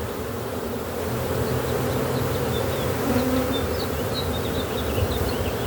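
Agitated honeybees hum and buzz around an open hive, a dense, steady drone close by that holds for several seconds with no voices.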